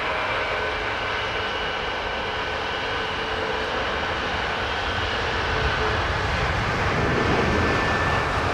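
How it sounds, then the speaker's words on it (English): An ATR turboprop rolls on the southern runway at London Heathrow, its steady loud engine drone holding throughout and swelling slightly toward the end. "Is the ATR going out of the southern runway"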